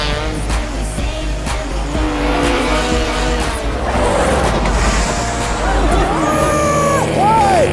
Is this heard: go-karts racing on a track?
yes